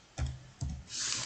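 Typing on a computer keyboard: two soft, close key presses followed by a brief hiss, quiet and without voices.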